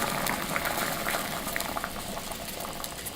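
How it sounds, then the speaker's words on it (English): Caramel braised chicken sauce with ginger and lime at a rolling boil in a pot, giving a steady, dense bubbling and hissing that stays even and fairly close throughout. "once it comes to a rolling boil, lower the flame to a very low simmer."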